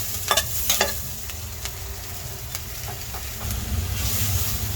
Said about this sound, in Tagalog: lagyan na natin ang bawang guys. No? Konti lang oil guys.